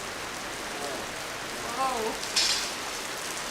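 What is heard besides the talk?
heavy rain falling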